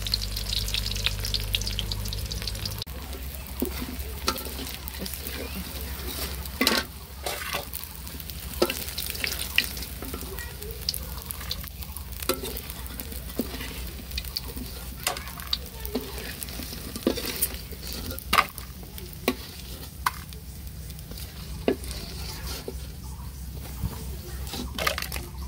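Iftar food fries in oil in a pan on a gas stove, with a continuous crackling sizzle and scattered sharp clicks of stirring, under a low hum at the very start.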